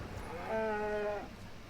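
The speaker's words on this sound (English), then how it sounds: "Opponent goes Bartered Cow." A single short cartoonish cow moo plays as the Bartered Cow card enters in the MTG Arena digital card game, clear and alone over quiet background.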